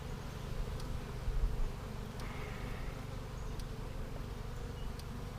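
Steady, low buzzing of many honey bees inside a hive of a package bee colony, a continuous droning hum with faint occasional clicks, fairly quiet and close.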